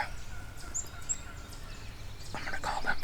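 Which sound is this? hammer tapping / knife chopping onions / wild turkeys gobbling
wild turkeys gobbling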